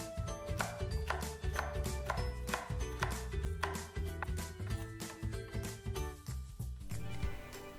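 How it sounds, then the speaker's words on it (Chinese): Knife on a cutting board slicing green peppers into thin strips, a fast regular run of crisp chops close by, steady for several seconds with a brief pause partway through. "最后呢，把辣椒切成细条就可以了。"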